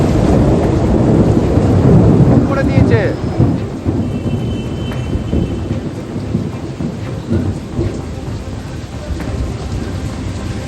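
Thunderstorm with rain in Kolkata: a heavy rumble of thunder early on over steady rainfall that continues throughout, with a few spoken words briefly heard.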